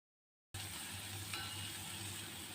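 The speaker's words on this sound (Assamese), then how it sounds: "আলু ভাজি ৰোৱা তেলখিনিতে মই এতিয়া পিঁয়াজখিনি বহাই দিম।" Onions dropped into oil left over from frying potatoes for aloo dum begin sizzling abruptly after a short silence, then keep up a soft, even frying hiss at a low level.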